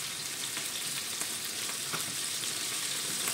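A hamburger fries in oil in a pan, giving a dense, continuous sizzle with scattered crackles and pops, close and steady throughout.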